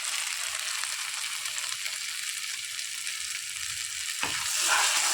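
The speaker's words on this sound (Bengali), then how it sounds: "এবার ভালো করে নেড়ে ছেড়ে নেব।" Food sizzles steadily in a pan as turmeric and salt are stirred in, a close, continuous hiss of frying that swells slightly louder near the end.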